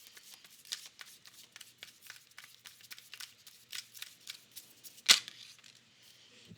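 Tarot cards are handled and shuffled close up, with a quick run of soft riffling flicks and a sharper snap near the end, quiet and alone.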